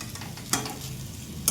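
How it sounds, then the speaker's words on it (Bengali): Pumpkin and potatoes fry with dried fish in a pan, a steady low sizzle with a couple of sharp scraping stirs, close, no voices. "কুমড়া আলু আর একটু ভাজবো"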